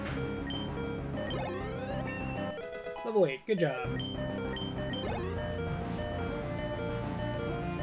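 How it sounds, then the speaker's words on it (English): The low-health warning in Pokemon Emerald beeps in a repeating electronic pattern over chiptune battle music, with a short sweeping effect midway and a person talking briefly over the game audio. "I hate that beeping sound. It's the most annoying sound in these games."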